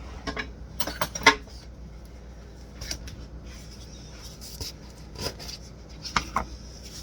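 A big metal spoon clinks and scrapes in a pan while pork chops cook, giving a few sharp, scattered taps against a quiet kitchen background.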